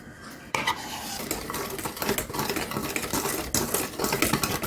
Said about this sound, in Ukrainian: Все перемішуємо додаємо йогурт, густий йогурт.